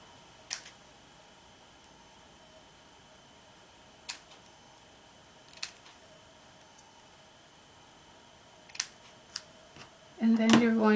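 Scissors cut individual paper words out for a Christmas votive candle tag, with a few quiet, isolated snips spaced seconds apart in a hushed room, followed by a brief louder rustle at the end.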